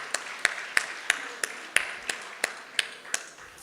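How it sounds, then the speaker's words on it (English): Sparse clapping at a university lecture honoring Timuel D. Black, about ten distinct sharp claps in a slow, fairly even rhythm over a quiet background, close and crisp. "please we'll give him a round of applause for that"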